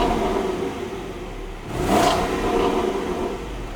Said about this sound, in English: its 5-litre V8 supercharged engine, which produces 575 brake horsepower and 700 Nm of torque, and it sounds fruity.